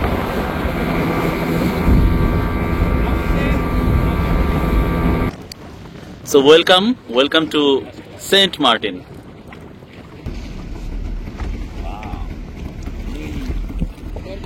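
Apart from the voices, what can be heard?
speedboat travelling on rough sea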